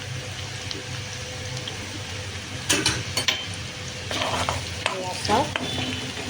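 Ginger and garlic frying in a pan for mango pickle, giving a steady sizzle with clinks and scrapes of stirring, while someone speaks briefly over the cooking.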